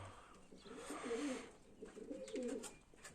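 Pigeons in a dovecote give soft, repeated cooing phrases in two rolling bursts. The calls are faint and nearby, over a quiet background hiss, with no talk.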